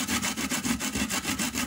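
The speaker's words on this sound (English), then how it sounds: "Going to make sure that I grate them" Food being grated on a hand grater, a quick run of close, even rasping strokes in a steady back-and-forth rhythm.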